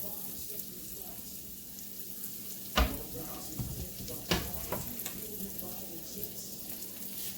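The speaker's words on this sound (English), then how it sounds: "So I'm going to saute just the onion in the butter for a few minutes." Onion sautés in butter in a pan, a soft steady sizzle with a couple of sharp utensil clinks, fairly quiet and close.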